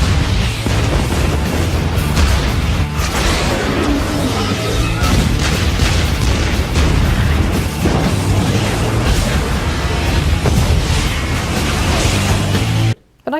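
Ship's cannon fire as a sound effect, loud repeated booms and crashing blasts that run almost continuously and end abruptly.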